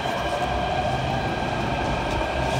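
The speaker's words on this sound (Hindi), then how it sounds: "अरे मेट्रो आ चुकी होगी, मेट्रो आ गई ना" Metro train arriving at a station platform, a steady loud rumble of cars and wheels with a high whine over it, close by and without talking.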